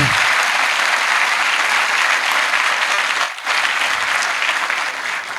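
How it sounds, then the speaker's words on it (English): An audience claps for harmonium and tabla players at a kirtan performance, sustained dense applause filling the room, dipping briefly before carrying on. "can you all clap for them?"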